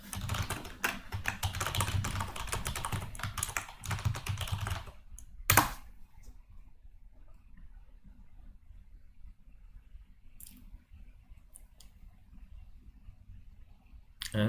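Login credentials are typed on a computer keyboard: a fast, close run of key clicks for about five seconds, one loud sharp click, then quiet room hiss broken by a few isolated keystrokes.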